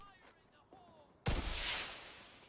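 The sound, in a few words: Slingshot SMG gunfire in the video game The Division 2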